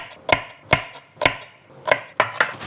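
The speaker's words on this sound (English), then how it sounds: "the beauty of the food processor, just got to get a rough chop on these" A food processor rough-chopping green onions in sharp, close bursts, about six quick pulses spaced roughly half a second apart with brief gaps between them.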